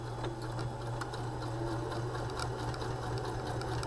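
A Baby Lock sewing machine back stitches with a steady, fast mechanical hum and fine rhythmic clatter, close and even throughout, with no voices.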